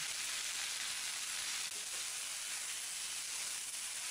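Gongura sorrel leaves fry in a pan for a coconut chutney, giving a steady, close sizzling hiss that runs unbroken throughout with no voices.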